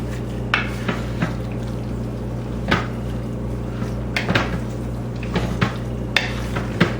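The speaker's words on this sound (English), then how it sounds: "I give that a stir." Chili with diced green chilies is stirred in a pot, giving soft scraping knocks of a utensil against the pot at irregular intervals over a steady low background hum.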